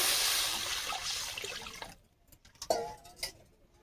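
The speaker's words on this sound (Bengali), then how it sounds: "রুই মাছের তেল ঝুল তাতে জল দিয়ে দিচ্ছি" Water pours into a pan of rohu fish curry cooked in oil, a steady broad splash for about two seconds, then several short wet dribbles and drips close by.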